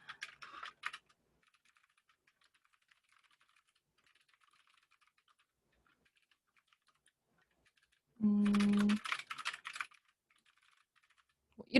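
Keystrokes on a computer keyboard as a blog post title is typed, a short burst of a few clicks at the start, then a louder cluster of rapid taps after a long quiet gap, close and alone.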